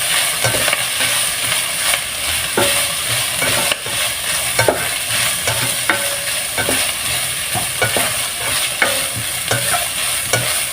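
Leftover birthday-party vegetables with a splash of soy sauce are stirred and fried in a pan, with a steady sizzle broken by repeated scraping strokes of the utensil, loud and close, with no talking.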